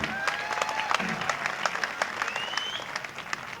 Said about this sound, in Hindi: आपको मेरा काव्य पाठ अच्छा लगा तो एक बार जोरदार ताली बजाकर मुझे बताएं।